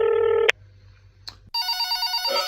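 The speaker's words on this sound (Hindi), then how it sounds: "किसका फोन आ रहा है यार?" A telephone ringing in a home: a loud, steady electronic ring that cuts off, a short quiet gap with a click, then a brighter pulsing ringtone resuming, with no one speaking.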